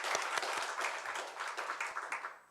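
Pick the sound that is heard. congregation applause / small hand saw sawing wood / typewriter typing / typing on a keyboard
congregation applause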